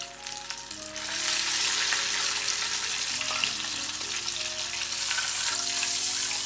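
Seasoned salmon pieces deep fry in hot oil with a loud, continuous sizzle and crackle, close up, with no talking.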